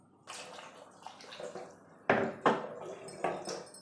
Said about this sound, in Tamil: ஸோ இப்போ தண்ணி ஊற்றி நான் சோக் பண்ணுறேன்.